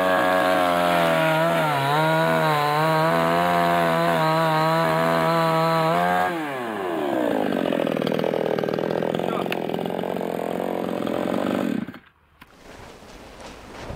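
A petrol chainsaw runs loud and steady, its engine pitch shifting as it bites into wood, then cuts off abruptly near the end.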